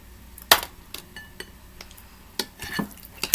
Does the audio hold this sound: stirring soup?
yes